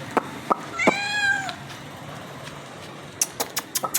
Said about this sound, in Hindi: छोटी सी म्याऊ, एक प्यारी सी म्याऊ, और ये दोनों आपस में झगड़े लड़ाई कर रही थी।